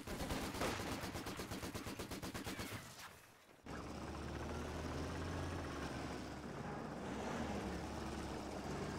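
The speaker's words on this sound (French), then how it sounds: "On essuie le gros tir de mitrailleuse." Heavy machine gun fire in a competitive 1v1 strategy war game match: a rapid, steady burst of loud automatic shots for about three seconds, then a short lull before sustained battle noise and engine rumble take over.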